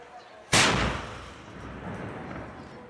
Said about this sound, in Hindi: तोप की आवाज 150 किलोमीटर दूर गांवों तक जाती है।